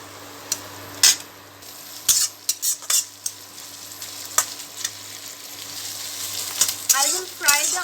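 Chopped onions fry in a pan with crushed ginger, garlic and chili. Scattered clinks and scrapes of a spoon stir them over a soft sizzle that grows busier toward the end, with no speech.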